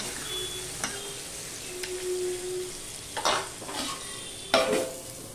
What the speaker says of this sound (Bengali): এবার মাংসটা কিন্তু আমি ঢেকে ঢেকে কষাবো।